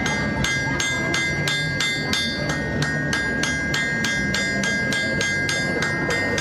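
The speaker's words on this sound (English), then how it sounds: "I'm hitting it at an angle with the hammer." Hammer blows on hot metal at an anvil, drawing the end out to a point, ring out in a steady loud rhythm, roughly fifteen strikes in six seconds, each with a bright metallic clang over a busy background.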